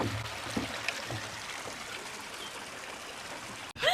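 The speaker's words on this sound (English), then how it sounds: "I do hear some water." Soft, continuous trickling water, a gentle desert stream in New Mexico babbling steadily at low volume throughout.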